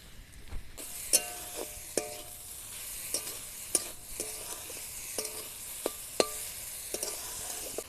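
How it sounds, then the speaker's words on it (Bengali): Grated coconut and sugar for a sweet filling being stirred in a wok, with a soft sizzle. A spatula scrapes and clacks against the pan in irregular taps over a steady hiss, close and clear, and no one speaks. "এবার আমি নারকেলের পুরটা তৈরি করে নেব। কড়াইতে প্রথমে নারকেল দিয়ে দেব।"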